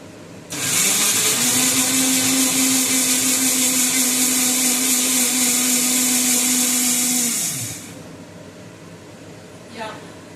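A mixer grinder crushes a marinade for tomato chicken in one loud, steady whirring run of about seven seconds, then winds down and stops, close by.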